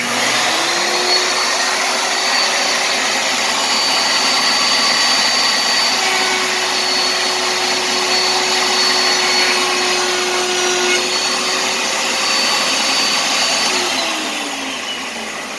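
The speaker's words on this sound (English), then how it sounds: "Now, this also has a vacuum on it, which is nice." A dust vacuum attached to a router table hums loudly and steadily, a continuous droning whine that holds even throughout before easing slightly at the end.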